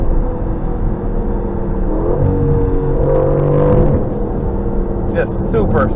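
A 2020 Aston Martin V8 Vantage drives under hard throttle, its engine revving with a loud, steady rising growl heard from inside the car. A voice calls out briefly near the end.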